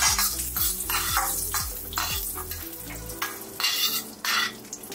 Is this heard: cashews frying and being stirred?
yes